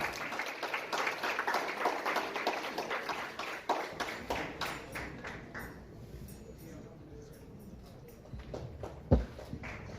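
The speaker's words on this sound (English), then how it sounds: "Please give big round of applause to Mr." Audience applause at a temple benefit gala luncheon, dense clapping for the first few seconds that thins and fades, followed by scattered claps and faint room noise.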